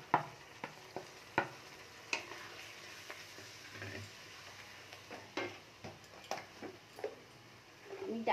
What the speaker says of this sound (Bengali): আর এই গুঁড়ো মশলাগুলো সব একসাথে দিয়ে আমি ভালো করে কষে নেব